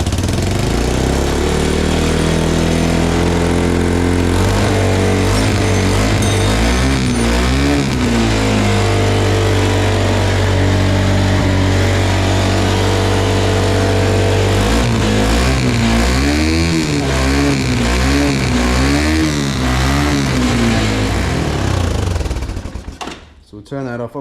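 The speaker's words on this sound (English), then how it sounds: "Sounds to me it's revving way too high idle." A Yamaha Timberwolf 250 quad engine that had sat unused for years runs at a high idle, a loud steady mid-pitched drone with some wavering revs throughout before cutting off at the end.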